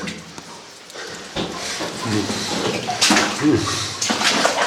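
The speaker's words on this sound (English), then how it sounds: "a bit of water running out of that" Water runs and splashes out of a vein inside an old mine tunnel in deep snow, a close, steady wet hiss with some louder bursts and knocks, with no speech.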